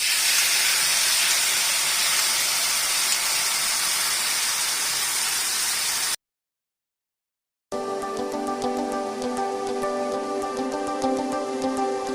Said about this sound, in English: now we're going to add the coconut milk